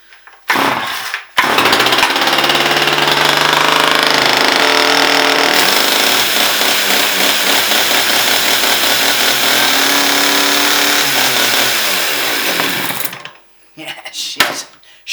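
An old STIHL chainsaw fires up after a brief pull and runs loud and close for about twelve seconds, a rough buzzing drone with revving swells, then cuts off into quiet with a few faint knocks.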